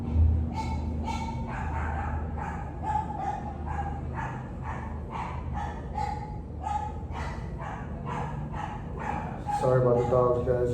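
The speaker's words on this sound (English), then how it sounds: "Sorry about the dogs, guys. There's dogs in the back right here." Dogs barking in a back area during a workout session, a steady series of repeated yips and barks at a regular pace, moderately distant, with a person talking over them.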